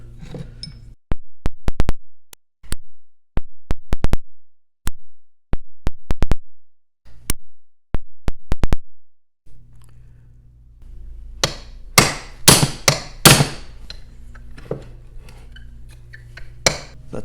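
A 2 or 3 pound hammer strikes a punch to drive out a door hinge pin on a Corvette C3, giving sharp metallic clanks in spaced pairs and then a quick flurry of louder hits, close up.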